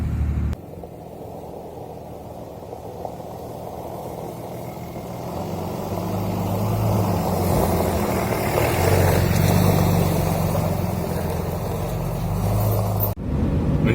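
Steady engine drone and road rumble from inside a truck with a 5.9 engine, towing a trailer at 70 miles an hour on the interstate, loud and continuous and swelling slightly partway through, with no talking.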